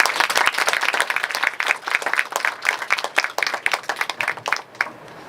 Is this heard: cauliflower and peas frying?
no